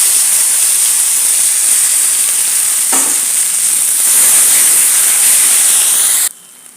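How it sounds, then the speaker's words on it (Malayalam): Ground tomato chutney pours into a hot tempering with curry leaves and sizzles in a loud, steady, close hiss that holds for about six seconds before cutting off abruptly. "ഇനി ഇതിലേക്ക് അരച്ച് വെച്ച ടൊമാറ്റോ ചട്നി മിക്സ് ചെയ്ത്"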